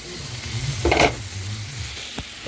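Vegetables and tofu sizzling in a stir fry, a low crackling hiss with a sudden louder burst of sizzle as food is tossed, then a single clack near the end, close and brief.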